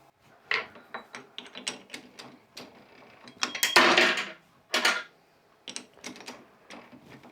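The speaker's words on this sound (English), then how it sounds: "see if I can get that 6mm thread into there, see if the tap is good enough to put the thread in" A 6mm tap cuts thread into a billet turbo actuator part, producing irregular ratcheting clicks and grinding scrapes in short bursts, with one longer rasping stretch midway, close up and with no talk.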